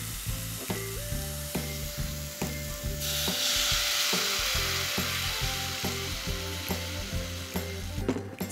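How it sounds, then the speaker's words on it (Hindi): Water poured into a pot of browned mutton for almond yakhni sets off a loud, steady sizzle with a surge of hissing midway. Musical tones play underneath throughout, and there is no talking. "अब इस स्टेज पे हम इसके अंदर पानी डालेंगे।"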